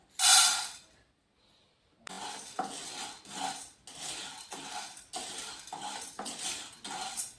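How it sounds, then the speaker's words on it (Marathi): Dry chana dal rattles and scrapes in a hot metal pan as a spoon stirs in repeated brisk strokes while dry roasting, after an opening clatter and a short pause. "माझी कढई गरम झाली आता हरभऱ्याची डाळ भाजून घेते मी आता याच्यात"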